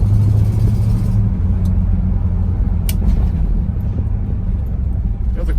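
A 1961 Pontiac Catalina Safari station wagon with a 389 Tri Power V8 drives along, its low engine rumble and road noise steady and close, with a brief sharp click partway through.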